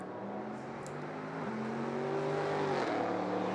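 A Porsche GT race car accelerating at Monza during an International GT Open race, its engine note climbing steadily through the gears and growing louder, with a shift break partway through. No voices are heard.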